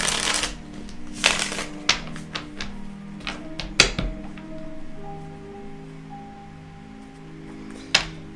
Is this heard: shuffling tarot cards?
yes